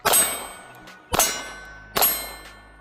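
Three loud metallic clangs from steel targets struck by shots from a Bodyguard 2.0 .380 pocket pistol, evenly spaced about a second apart, each ringing briefly, with no talking.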